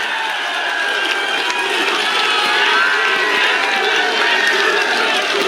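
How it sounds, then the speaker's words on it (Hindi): A large crowd at a political rally for the Jind by-election roars with continuous loud cheering and applause to welcome Dushyant Chautala, forming a dense, unbroken wash of voices and clapping. "जोरदार तालियों से भाई दुष्यंत का स्वागत कीजिए"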